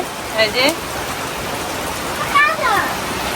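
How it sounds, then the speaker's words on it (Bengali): Steady rain falls with an even wash of noise, and a few brief bird-like chirps come through twice. "এই যে দুম বৃষ্টি নামছে"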